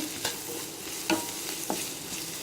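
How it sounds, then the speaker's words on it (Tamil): Masala for tomato kulambu fries in a pan with a constant soft sizzle, punctuated by three light clicks and scrapes as it is stirred. "அதுக்கப்புறம் இந்த மசாலா ஓரளவுக்கு வதங்கிருச்சு"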